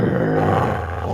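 A Red Heeler mix dog growls low and rough during a tug of war game, one sustained close-up rumble.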